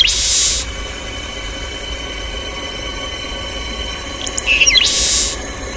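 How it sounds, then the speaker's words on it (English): Birds call along Biscayne Bay in North Miami, with two short bursts of high chirping, one at the start and one near the end, over a low, steady background rumble. "First and foremost, bird sounds."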